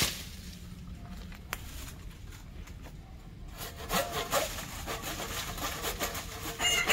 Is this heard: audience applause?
no